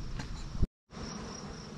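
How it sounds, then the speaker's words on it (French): Honeybees flying around their hives as the hives are loaded for transport to pollination: a close, continuous buzzing drone that cuts out briefly partway through, then resumes. "Les abeilles, ça vole encore un peu, mais pas trop."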